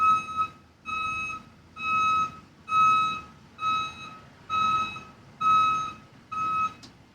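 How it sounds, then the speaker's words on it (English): Loud truck reversing beeps ring out in a steady series of eight evenly spaced tones, close and prominent over a low engine rumble. "Loud ass truck."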